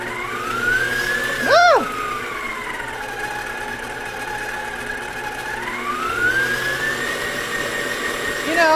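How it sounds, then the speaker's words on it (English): A Cheftronic stand mixer beats brownie batter on high, its motor whining steadily with pitch sweeps as the speed rises and falls, loud and close throughout. "I'm only doing this because I want to play with the mixer. I wouldn't beat it this high."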